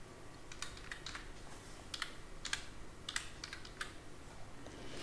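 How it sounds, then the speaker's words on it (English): Quiet, irregular clicks of typing on a computer keyboard, keys tapped in short clusters with brief pauses between them, close and alone. "in the search box you have to type exam.net"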